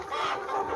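Young chickens on a community farm in South Korea cluck steadily and close by, a dense continuous flock sound with no voices over it.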